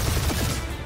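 Gunfire in the Guardians of the Galaxy video game, a short dense burst of rapid shots that fills the moment at steady loudness, with no voices over it.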